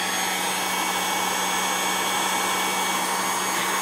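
A heat gun blowing hot air to melt soap pieces during cold process soap making, a loud, steady, unbroken roaring hiss heard alone throughout.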